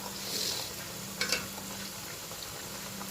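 Makrout pastries frying give a soft, even hiss with a short bubbling burst partway through, faint and without voices.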